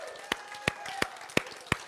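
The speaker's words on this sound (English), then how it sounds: "Let's give our online audience a clap," Five separate, evenly spaced hand claps in a church setting, sharp and moderately close, set over a low room hum and faint background murmur.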